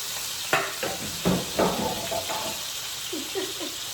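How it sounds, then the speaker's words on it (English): A chuck roast goes into a very hot pan for searing, giving a series of sharp sizzling bursts and clatters as the meat is laid down, followed by softer frying hiss. "So I'm gonna pick it up and put it in my raring hot pan right here."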